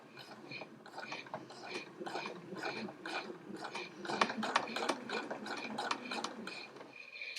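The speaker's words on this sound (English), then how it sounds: "I'm just going to sew very gently and carefully, keeping that notch aligned with the seam that I've just made." A sewing machine runs steadily as it stitches a hoodie seam, giving a fast, even mechanical ticking and whirring at moderate volume with a few brief pauses between bursts.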